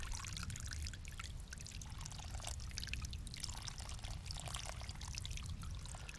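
Water from a nearby stream at a backpacking campsite on the Appalachian Trail flows and trickles continuously, a soft close pouring sound with no voices.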